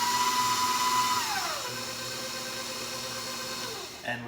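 Electric mixer beating sour cream pound cake batter, a loud steady whir that slows and drops in pitch after the first second, then keeps running at a lower hum before a short clatter at the end.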